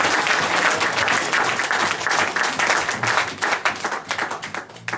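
A church congregation breaks into sustained applause, dense and loud at first, then thinning into scattered individual claps as it fades.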